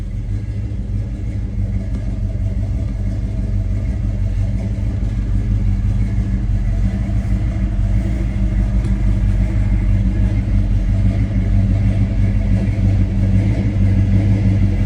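A 1970 Chevrolet Chevelle SS engine rumbles through its tailpipes, a loud, steady low-pitched burble held evenly for the whole stretch without noticeable revving.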